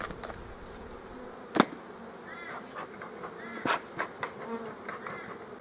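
Honeybees hum steadily inside a small nucleus hive, a soft, continuous buzz with a few sharp knocks and thumps of frames being handled nearby.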